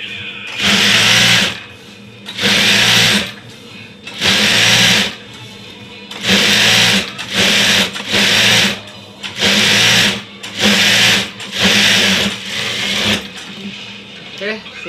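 A sewing machine stitches around a foam-layered bedspread in repeated loud bursts of rapid whirring, about ten runs separated by short pauses, close by with brief talk between runs.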